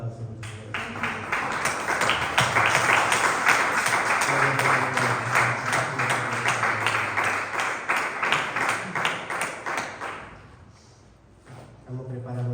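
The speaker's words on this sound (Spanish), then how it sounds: "Dale un fuerte aplauso a nuestro Señor." A church congregation claps loudly and steadily in praise to God for about ten seconds, dense overlapping hand claps with voices mixed in, before fading to a quieter tail.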